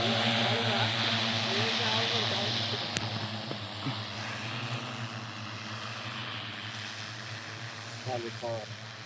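A droning agricultural spraying drone's propeller hum fills the air, fading slightly midway, while bits of distant voices and chatter come through faintly.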